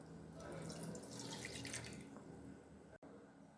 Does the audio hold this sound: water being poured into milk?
yes